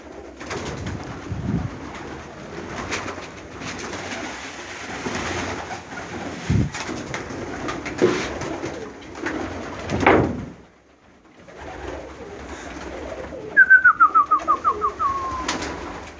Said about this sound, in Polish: Gołębie są żywe